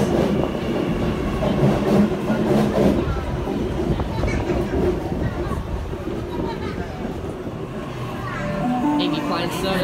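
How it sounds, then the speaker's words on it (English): A Sydney Metro train pulls out of a platform at Chatswood, a loud rumbling run with rhythmic wheel clatter close by, and station announcements over it. "Metro service departing Platform 2."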